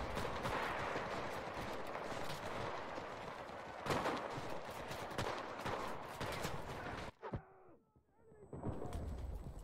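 Dense, continuous gunfire and explosions from a World War II infantry assault on Ver-sur-Mer in the Enlisted video game, loud and overlapping for about seven seconds before cutting out abruptly, followed by a few scattered distant shots.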